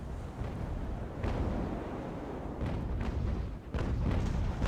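Naval battle in the age-of-sail game Ultimate Admiral: Age of Sail, with a rolling rumble of distant cannon fire and several muffled booms and thuds landing in quick succession, fairly faint.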